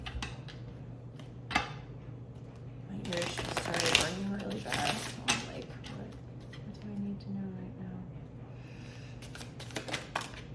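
Tarot cards are handled and shuffled close up in a run of soft riffling and flicking, loudest in the middle, while a voice talks quietly over the top.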